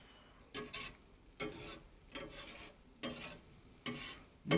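Sausage breakfast scramble stirred on a Weber griddle, several scraping strokes of a spatula across the hot flat top over a quiet sizzle, close and moderately loud.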